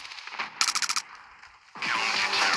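Rapid automatic gunfire from the Standoff 2 first-person shooter in a competitive match: a tight burst of about six loud, evenly spaced shots, then background game noise and a louder wash of effects.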